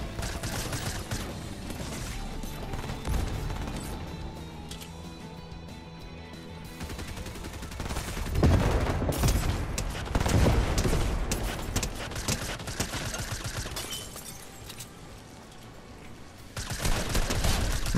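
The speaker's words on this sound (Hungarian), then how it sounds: "Valaki itt lövöldöz." Dense, loud gunfire from the video game Fortnite rattles on without pause: rapid bursts and overlapping shots mixed with impacts, with heavier volleys swelling partway through and near the end.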